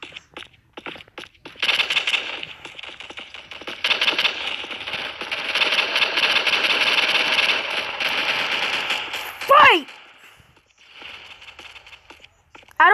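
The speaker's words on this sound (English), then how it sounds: "we got the tactical SMG." Tactical SMG fire in the Pixel Strike 3D shooter game, rapid automatic bursts rattling in several runs of a few seconds each at moderate loudness, broken by short pauses and a couple of brief electronic game tones.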